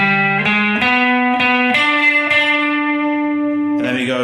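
A Chicago blues guitar riff, a series of plucked notes and short slides moving up the neck, then a brighter final strum, played solo and close.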